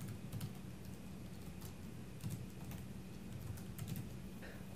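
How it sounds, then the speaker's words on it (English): Dates are typed on a computer keyboard in soft, quick bursts of keystrokes over a faint steady hum, quiet and close, with no talk. "You can do this by either manually typing the dates into the box"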